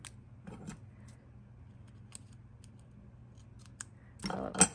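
Scissors trim paper and tape while putting together a papercraft label, giving a few sparse, close snips and short crisp cuts, with a busier cluster of snipping near the end and no talking.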